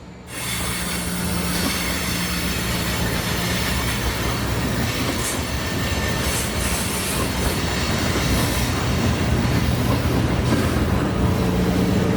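A local manifest freight train hauled by six-axle diesel locomotives rolls steadily past at Rochelle Railroad Park, a constant loud rumble of wheels with faint flange squeals and no talking.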